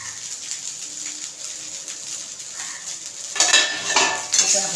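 Tempered rice stirred with fresh coriander in a pan for phodnicha bhat, a quiet soft hiss under light scraping, then louder metal spoon clatters against the pan near the end.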